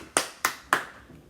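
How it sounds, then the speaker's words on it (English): Three sharp, separate hand claps, close and fairly loud, with a steady rhythm and no talk, given at home during a cholent cooking lesson for a child who opened the potatoes. "Give him a round of applause at home."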